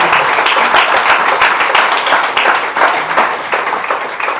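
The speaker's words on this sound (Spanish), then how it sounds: "dale un aplauso al Señor." A church congregation claps loudly and steadily, a close, dense patter of many hands with a rhythmic pulse, lasting the full few seconds with little talk.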